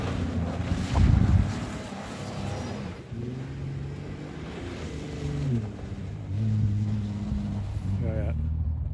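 An old 4x4 Chevrolet Blazer engine running low on fuel idles and labors with a rough, uneven drone, swelling and dipping over the whole stretch, mixed with outdoor wind rumble and some talk.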